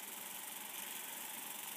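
A Sony TC-580 open reel tape recorder rewinds, with a faint, steady whirring hiss and a soft mechanical hum that holds even throughout, with no voices.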